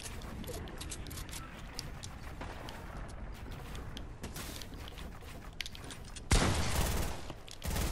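Rapid gunfire in the Fortnite video game, dense bursts of shots crackling continuously over game noise, with a louder heavy burst near the end and some talk underneath.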